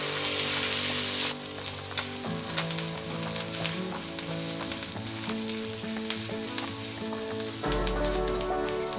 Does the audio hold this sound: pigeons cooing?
no